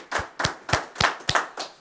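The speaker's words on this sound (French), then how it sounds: "Donc, on peut s'applaudir juste pour ça déjà." A small group claps for themselves at the close of a World Cup finale, six sharp, evenly spaced hand claps ringing out close and loud with no talking.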